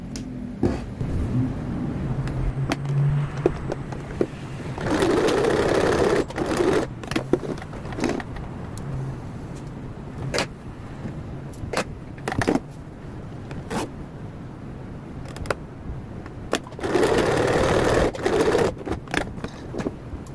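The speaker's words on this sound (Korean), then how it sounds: "1mm 스티치 양쪽이 연결되게 1mm 스티치를 해주세요." A sewing machine stitching a cushion seam, with two sustained bursts of motor-driven stitching between quieter stretches of handling, clicks and fabric rustle.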